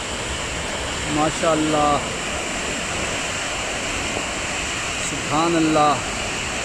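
Cham waterfall at Chinari sends up a constant broad roar of falling water, with someone speaking briefly twice over the rush.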